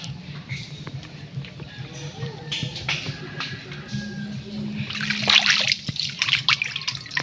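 Water flows and trickles into a dug hole with splashing and dripping nearby, rising to a louder gush toward the end, with faint outdoor background noise.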